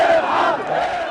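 A large crowd in Tahrir Square chants "Erhal" in unison, a loud, massed roar of voices rising and falling over about a second.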